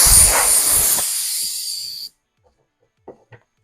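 An aerosol spray can hisses in one sustained burst of about two seconds while white paint goes onto an RC buggy body, loud and close, then cuts off sharply, followed by faint clicks.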